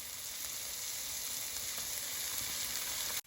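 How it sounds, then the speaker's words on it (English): Onions and celery sautéing in a pan for New Orleans dirty rice, giving a steady close hiss of sizzling that holds for about three seconds before cutting off abruptly. "now I want y'all to just saute these down about halfway"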